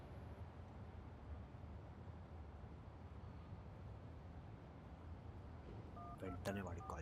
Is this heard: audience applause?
no